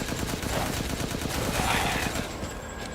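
Rapid automatic gunfire from a video game weapon rattles in a steady, dense stream of shots throughout, loud and close.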